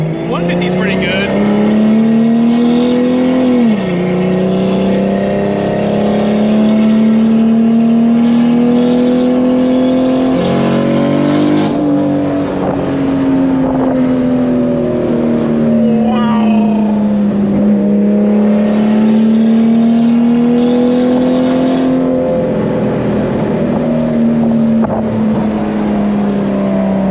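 A BMW E30 with a swapped 2JZ engine, 6466 turbo at 1 psi and dual-clutch gearbox, drones loudly and close, its pitch climbing and dipping through revs and gear changes, with occasional voices in the cabin.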